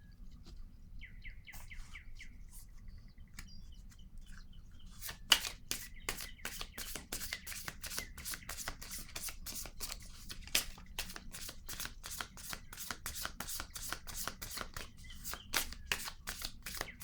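Oracle cards shuffled during a reading, a fast, even train of crisp riffling snaps that starts partway through and continues steadily, with faint bird chirps in the background early on.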